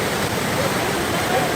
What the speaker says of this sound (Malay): Hujan masih lagi mencurah-curah turun.